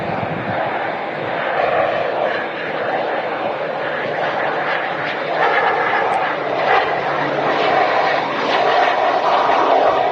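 A TUI Boeing Dreamliner taxiing at Manchester Airport produces a steady, moderately distant jet engine roar that swells slightly, with faint voices in the background.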